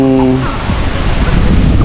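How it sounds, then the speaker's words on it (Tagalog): Strong typhoon wind during Typhoon Kristine roars as a loud, steady broadband rush that fills the whole clip, with a brief low hum near the start. "malakas po ang hangin niya"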